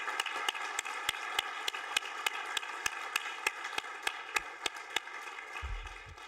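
Sparse, evenly spaced claps ring out under a steady broadband hum at a technology showcase event, sounding like a few hands clapping at a moderate distance rather than a full crowd's ovation.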